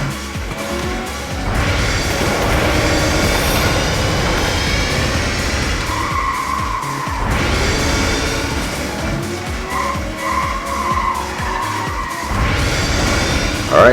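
A race car drifts through a corner in the arcade racing game Cruis'n Blast on Nintendo Switch, giving sustained loud tire skids and squeals over steady engine roar, with several surges of screeching across the stretch and no talking.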